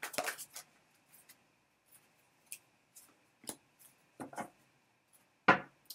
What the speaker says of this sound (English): I shuffle till one card falls out.